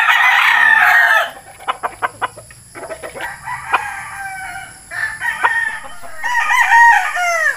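Chickens cluck and a rooster crows in a Filipino backyard flock of young Beatles White gamefowl, a loud burst of calls at the start followed by scattered clucks and another crow near the end, close by.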